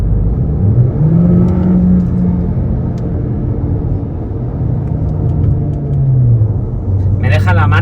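A chip-tuned Cupra tuned to 300 hp accelerates in race mode with boost on a fast road, its engine droning loud and close with a deep rumble that rises and falls as revs change.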